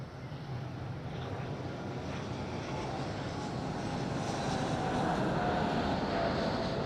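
An airplane landing at Madeira airport gives a continuous broad jet-engine roar that swells slightly louder toward the end, heard from some distance and mixed with wind buffeting on the microphone.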